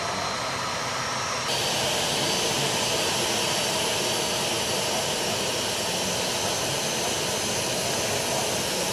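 An Indonesian Air Force military transport aircraft at Halim Perdanakusuma airport in Jakarta at night, a loud continuous jet engine roar that swells after the first second and holds steady, with no voices.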